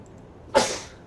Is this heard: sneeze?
yes